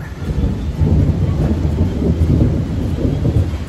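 Loud, close thunder rumbles over steady rain during a storm in San Ildefonso, Bulacan, forming a dense, continuous roar with no speech.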